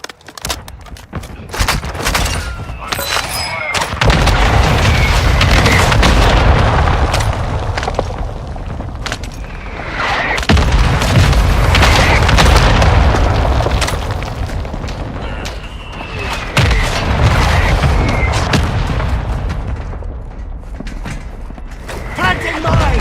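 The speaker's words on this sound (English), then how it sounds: "Hostile mortar strike incoming." Mortar strike explosions in the video game Call of Duty Warzone 2, heavy booming blasts and rumbling impacts in repeated waves across the scene, loud and close with bursts of gunfire mixed in.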